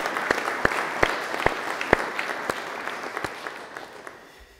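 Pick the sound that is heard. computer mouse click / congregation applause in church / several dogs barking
congregation applause in church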